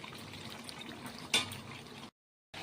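Hot water is poured into meat curry frying in a pan, making a brief splashing, bubbling hiss over the sizzle, then cutting to a short silence.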